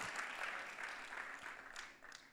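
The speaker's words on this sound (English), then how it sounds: "Clap if you're grateful that God is just getting started." A church congregation claps steadily together, a dense, sustained burst of applause heard on its own.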